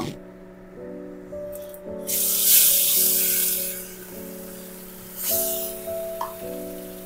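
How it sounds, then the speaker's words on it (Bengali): Katla fish frying in a pan of oil crackles and sizzles in swelling bursts, loud at times and softer between, over a steady musical tone. "বাকি দুটো মাছও ভেজে নেব।"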